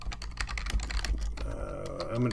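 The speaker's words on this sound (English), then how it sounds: "And I'm going to start typing." Rapid typing on a computer keyboard, a quick irregular patter of key clicks recorded up close at low level, with faint background voice near the end.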